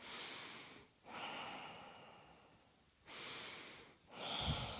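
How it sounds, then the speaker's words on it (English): Strong, deep breaths taken while holding a yoga warrior pose: three long airy exhales spaced about two seconds apart, close and fairly soft, the last ending with a brief low puff. "A couple of strong breaths."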